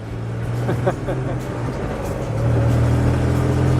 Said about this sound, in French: j'ai hâte de réparer le silencieux. Ça fait beaucoup trop de bruit, ça, là.